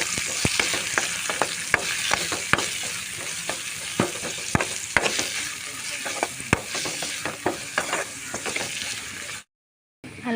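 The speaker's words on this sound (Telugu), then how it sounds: "ఆనియన్స్ వేసుకుందాం. అలాగే పచ్చిమిర్చి," Onions and green chillies fry in hot oil in a village-style kitchen, a dense steady sizzle broken by frequent sharp scrapes and taps of a spatula against the pan, close and fairly loud, ending in a brief silence.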